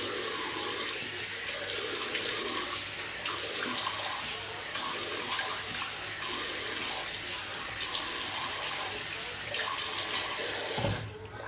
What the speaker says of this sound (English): gonna wash off the alum.